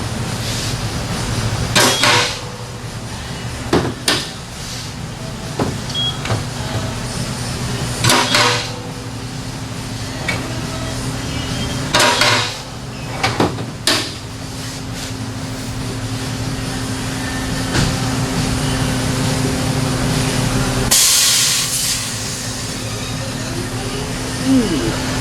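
A wheel balancing machine spins an automotive tire and wheel in a repair shop, a steady mechanical hum with periodic clunks and knocks as the run starts and stops, with voices talking over it.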